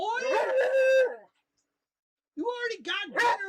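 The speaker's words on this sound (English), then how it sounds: "You already got dinner. What are you barking about?" A dog howling or whining in two drawn-out, tonal bursts with a silent gap between them, close and fairly loud, heard alone without talk.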